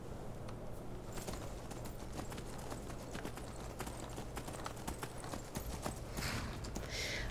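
Horse hooves clip-clopping steadily in The Elder Scrolls V: Skyrim, a continuous rhythmic trot of close, moderately loud footfalls over ambient game sound, with no talk.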